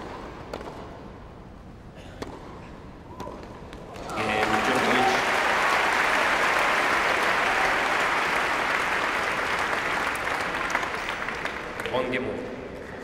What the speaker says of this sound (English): Good solid opening by Djokovic, applauded by his coaching team, younger brother.